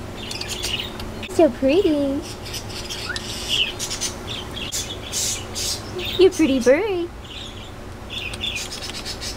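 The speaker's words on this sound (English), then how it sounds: "Yeah, it's a pretty bird. They're so cute. Are they finches?" Pet finches chirping and tweeting up close in short bursts of a few calls, with faint high peeps in between, while a person coos and talks softly over them.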